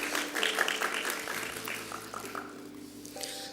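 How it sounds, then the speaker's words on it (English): Steady applause from a crowd at an occupational therapy pinning ceremony rolls on throughout, gradually thinning toward the end, heard from a moderate distance. "let's give her a round of applause"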